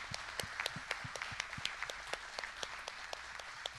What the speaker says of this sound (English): Let's give a round of applause for these seniors that are graduating.